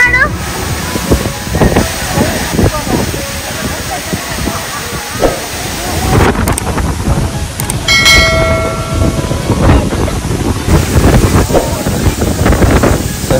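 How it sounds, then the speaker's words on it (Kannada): The Koodlu Theertha waterfall in Karnataka's Western Ghats gives a loud, steady rushing roar up close, mixed with wind buffeting the microphone while people talk over it. "ಈವನ್ ಡೈರೆಕ್ಟ್ ಆಗಿ ನೋಡೋಕ್ಕೆ ಆ ಫಾಲ್ಸ್ ಹೈಟ್ ಇಂದ ಬಿಡುತ್ತೆ"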